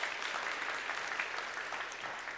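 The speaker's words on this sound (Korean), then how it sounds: "우리 박수로 우리 환영하도록 하겠습니다" A church congregation claps in welcome for newly registered members, a steady, even patter of many hands lasting a couple of seconds at moderate distance.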